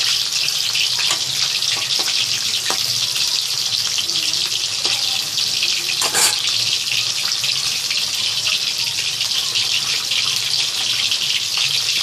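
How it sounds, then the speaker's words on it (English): Fish fry in a pan of hot oil, giving a loud, steady, close sizzle that hisses on without a break, with a few faint pops and clicks from the pan. "These fishes should be fried properly on both the sides."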